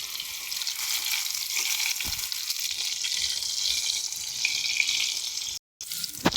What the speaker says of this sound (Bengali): আলুগুলোকেও মোটামুটি একটু লাল লাল করে ভেজে নেব।